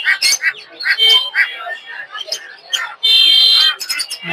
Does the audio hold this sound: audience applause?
no